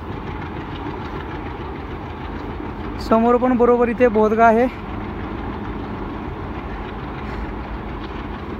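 A train runs along the railway line beside Dhavalgad fort near Purandar, heard as a steady low rumble throughout while a person talks, with a short, louder tonal burst in the middle.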